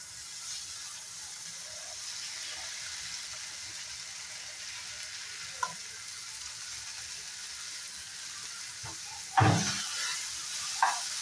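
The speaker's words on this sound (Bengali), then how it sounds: "পেঁয়াজ আর টমেটোর সাথে একটু ফ্রাই করে নেব।" Okra pre-fried without turmeric or salt sizzles faintly in a pan with onion and tomato, a low steady hiss with a soft stirring knock midway and a sharper clatter of spatula near the end.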